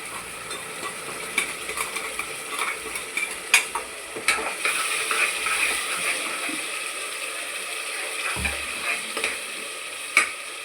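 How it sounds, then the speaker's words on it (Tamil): Ginger garlic paste fries with browned onions in a pan, a continuous close sizzle broken by repeated scraping and clacking strokes of a spatula, with no talking. "இஞ்சி பூண்டு நல்லா ஃப்ரை பண்ணணும்"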